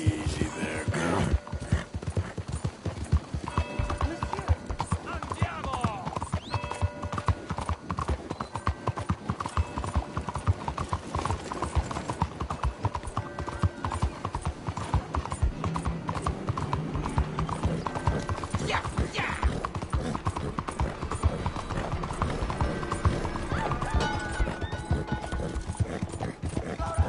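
Horse hooves clip-clop steadily in the Red Dead video game, a continuous rhythmic patter of hoofbeats mixed with mechanical clinks, creaks and the odd whinny over a busy game soundscape.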